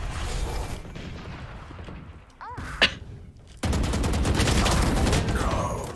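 Gunfire from Valorant crackles in dense rapid bursts close up, with a brief lull and a sharp single crack before heavy sustained firing resumes; no voice is heard.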